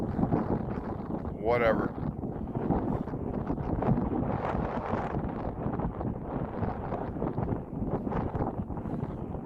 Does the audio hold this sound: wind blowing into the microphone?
yes